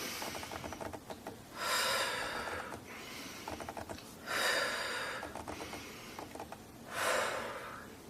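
Slow, deep breaths drawn in through the nose and released, three long airy swells spaced a few seconds apart during a labor breathing exercise, close and fairly loud with light clicking in between.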